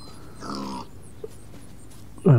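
A wild boar in the hunting game The Wolf, in the Green Hills map, gives a short low grunting snort near the start, followed by a faint click and a louder grunt cut off at the end.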